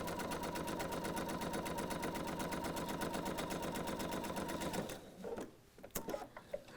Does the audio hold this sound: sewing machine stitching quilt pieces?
yes